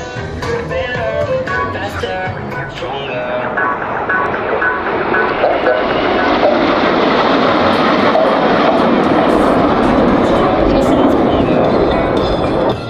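Patrouille de France jets fly an air show display at the 2023 Temps des Hélices meeting in Cerny-La Ferté-Alais, a steady, loud roar of jet engines that builds and holds under continuous commentary.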